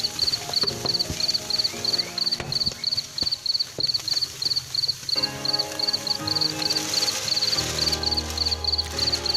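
Crickets on a cricket farm chirp in a steady, rapid high-pitched pulse throughout, over scattered clicks, knocks and a low background hum.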